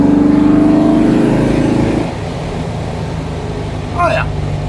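A 1971 VW Type 3 Squareback pulling in third gear, its engine droning steadily up close for a couple of seconds before easing off to a lower rumble, with brief talk near the end.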